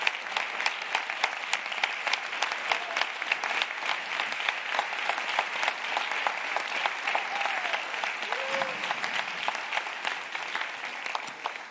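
An audience applauds at the final of a thesis-in-180-seconds competition, with dense, steady clapping from a large hall crowd sustained for around twelve seconds.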